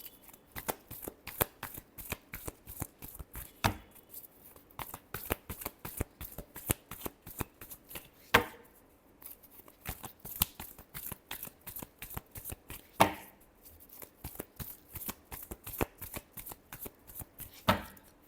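Tarot cards shuffled by hand, a long steady stream of quick riffling flicks and soft papery slaps, close and even in rhythm with a few louder snaps, continuing without talk.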